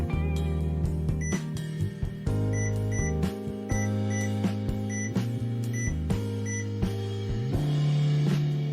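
An air fryer gives a series of short electronic beeps as its timer is set to ten minutes, sharp regular tones over a steady tonal background.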